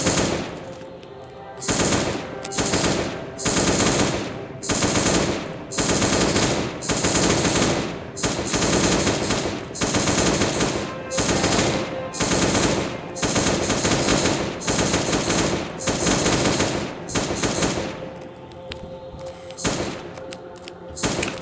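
Gunfire in the video game Last Day on Earth, loud close bursts of rapid automatic shots, about a dozen short volleys separated by brief pauses, with no talking.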